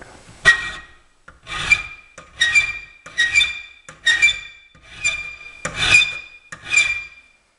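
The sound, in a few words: metal being filed by hand with a file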